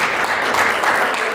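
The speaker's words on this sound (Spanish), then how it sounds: "¿Por qué no le damos un aplauso al Señor?" A church congregation breaks into a brief, loud burst of applause, steady clapping from many hands filling the room for about a second and a half.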